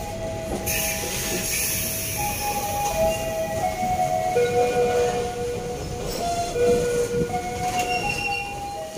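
KA Lokal Cibatuan local train rolling into Maswati station at night, a steady rumble with rising and falling metallic wheel squeals and hiss, close and continuous, no voices.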